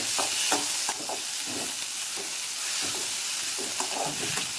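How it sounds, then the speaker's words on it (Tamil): Two cut tomatoes sauté with onion and garlic in a pan, a constant close frying hiss overlaid with rhythmic stirring scrapes and taps every second or so. "இப்போ வதங்கிட்டு இருக்கிற வெங்காயத்து கூடயே தக்காளி 2 தக்காளியும் கட் பண்ணி அது கூடயே போட்டு வதக்கலாம்."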